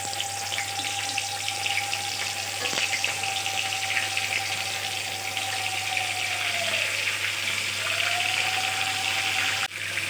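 Pieces of lote fish sizzle in hot oil in a wok, a steady, close, even hiss that fills the whole stretch, with a faint continuous whine underneath.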